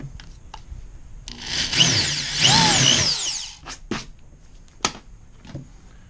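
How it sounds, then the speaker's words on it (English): Power drill whirring in bursts as it deepens a screw hole in a wooden stud during a heavy-duty portable ramp build, with a rising and falling pitch, followed by a few sharp knocks and clicks. "I'm just going to kind of deepen that hole a little bit"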